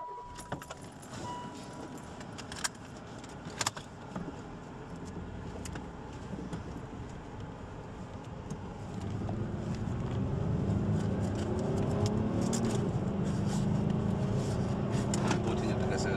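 A car pulls away and gets up to speed on a road: a few key and interior clicks at first, then a rising, steady engine and road rumble with wind noise inside the cabin, while people talk.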